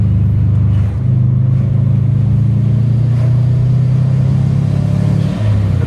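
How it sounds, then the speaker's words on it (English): Subaru Impreza WRX Classic exhaust burbling at idle and light revs, a deep, steady low rumble close by with small rises in pitch, no talk. "The burble of that exhaust"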